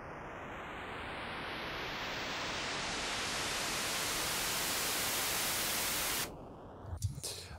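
Synthesized white noise riser made in Logic Pro X, a broad hiss that gradually swells in loudness with a faint upward sweep, then drops away abruptly near the end, followed by a few soft bumps.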